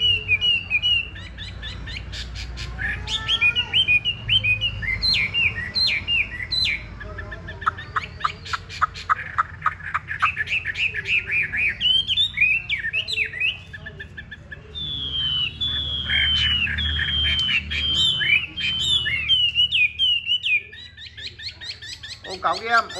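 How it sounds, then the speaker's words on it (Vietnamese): A caged hwamei songbird sings loudly and close by, pouring out rapid, varied whistled phrases in repeated bursts, with faint low background noise between phrases. "Đây là một em họa mi đẹp xuất sắc luôn các bác nhá."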